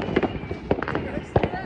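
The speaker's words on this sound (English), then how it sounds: "ang mga fireworks diri" Fireworks bursting during a Fourth of July celebration: several sharp, fairly loud pops and crackles at irregular intervals, with people talking throughout.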